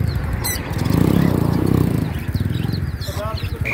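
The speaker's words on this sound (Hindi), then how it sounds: "तोते तोतियां तोते तोतियां" Parrots at a village pet shop in Pakistan give sharp chirps and squawks in short bursts at the start and again near the end. A loud, close rumble runs underneath them.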